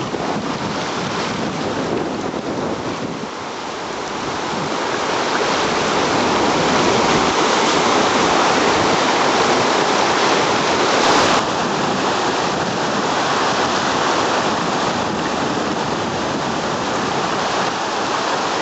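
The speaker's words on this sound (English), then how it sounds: "There was plenty of water in the river and the current of water was extremely high." A fast, high river current at the Sangam, where rivers meet, gives a loud, steady roar of rushing water that never pauses, with wind buffeting the microphone and no voices.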